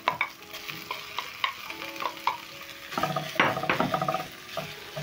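Minced meat frying with potatoes and carrots in a pan, broken up with a spatula: close, busy scraping and tapping strokes over a sizzle, growing more vigorous toward the end, with faint music underneath.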